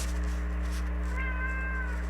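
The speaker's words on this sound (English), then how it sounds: "my cat wants to get out the room" A house cat meows continuously to be let out of a room, giving one long, loud, close, drawn-out cry with a wavering pitch and no talk.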